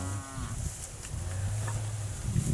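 Cattle moo at an Alabama livestock sale of yearling steers and heifers, with a few drawn-out bellows standing out over a steady background hum.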